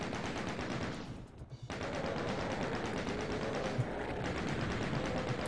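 Rapid machine-gun fire from enemies in DOOM II rattles in dense, continuous bursts, with a brief dip in the middle before the shooting resumes at the same steady level.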